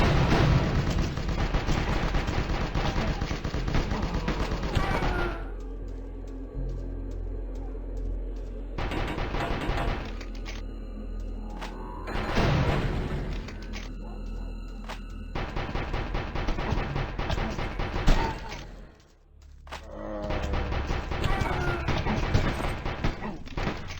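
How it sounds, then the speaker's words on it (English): Rapid automatic fire from a submachine gun in the video game Decision III rattles in long, dense bursts broken by short gaps, with booming impacts and game noise throughout. "The submachine gun lacks so much bite."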